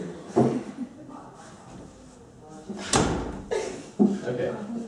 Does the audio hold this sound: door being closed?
yes